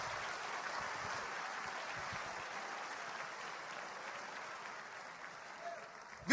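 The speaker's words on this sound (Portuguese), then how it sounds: "Será que você pode dar um aplauso bem forte ao Senhor?" A church congregation applauds for the Lord, sustained broad clapping that slowly fades, with a faint voice beneath it.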